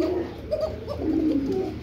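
Bombay pigeons for sale cooing in a loft, several low throaty coos following one another at close range and fairly loud, with no one speaking.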